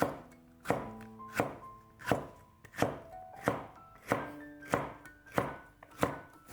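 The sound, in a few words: knife chopping green chili into strips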